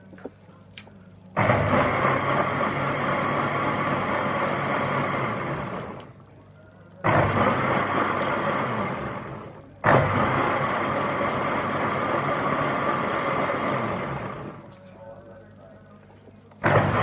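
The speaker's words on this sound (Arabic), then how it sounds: "هنضربه في الخلاط." A blender whirs loudly in three long bursts, stopping briefly between them, with a short start at the very end.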